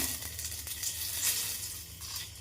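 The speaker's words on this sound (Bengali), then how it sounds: "প্রথমে এলাচ দিয়ে দিলাম, তারপরে তেজপাতা," Whole cardamom and bay leaf sizzle in hot oil with a little sugar, a soft, even hiss that stays fairly quiet and steady through the brief moment.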